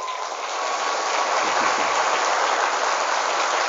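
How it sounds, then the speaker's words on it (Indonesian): Hundreds of schoolgirl students at an Islamic boarding school clapping together in a dense, continuous roar of applause, loud and sustained for several seconds with no voices heard. "Posisikan tangannya, mau tepuk tangan Tursina yang cantik-cantik."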